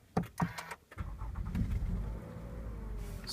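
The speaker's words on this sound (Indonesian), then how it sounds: "Setelah injak rem, tekan tombol engine start, stop untuk start" A Toyota Camry 2.5V is started by push button: a few clicks and thumps, then the engine catches and settles into a smooth, low, steady idle, close by.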